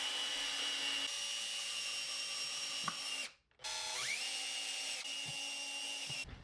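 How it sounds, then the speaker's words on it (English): A power drill drives screws into wooden rails for a homemade wooden machine vise, a steady whirring drone with pitch shifts as it slows and speeds, broken by a brief pause in the middle, close and loud. "I'm just screwing on these rails"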